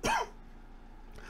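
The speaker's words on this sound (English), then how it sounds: "still got a little bit of a cough" A single short, sharp cough from a man at close range, followed by quiet room tone and a faint second breathy sound near the end.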